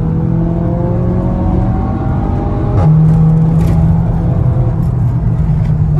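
A Seat Leon Cupra 290 with a DSG gearbox accelerates with a loud, close engine drone rising in pitch, then a sharp upshift with a brief crackle before a deeper steady pull.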